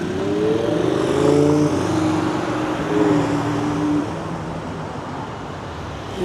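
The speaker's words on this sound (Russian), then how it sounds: "Эти автомобили красного цвета, они не могут тихо ездить." A loud red car pulls away along a street in Dubai Marina, its engine noise strong at first and then fading as it drives off, with steady traffic noise behind it.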